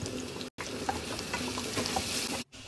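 Chopped onion frying in oil with salt in a pan, a quiet steady sizzle heard close up, cut by two brief silent gaps.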